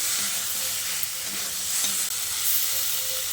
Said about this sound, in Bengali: আলুগুলো দিয়ে মশলার সঙ্গে খুব ভালো করে মিশিয়ে নিচ্ছি।